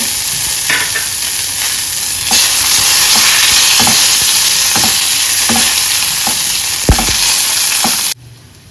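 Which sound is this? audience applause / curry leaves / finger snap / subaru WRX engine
curry leaves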